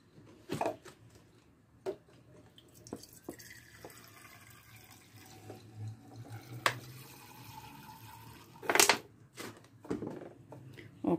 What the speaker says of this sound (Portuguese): eu vou colocar o vinagre aqui